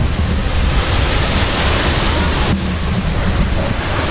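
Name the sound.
Lakshapana waterfall rushing water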